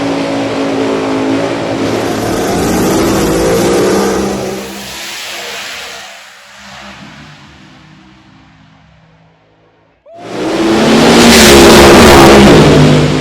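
A funny car drag racer called Maximum Overdrive, driven by Smiley Cordero at Eddyville Raceway Park, thunders down the strip with a loud engine roar that fades into the distance, then another fierce, close burst of engine noise erupts near the end.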